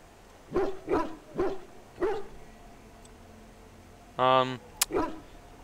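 Painted war hounds in the video game Dragon Age: Origins barking in a series of sharp, close barks, five spaced apart, with a brief tonal sound near the end.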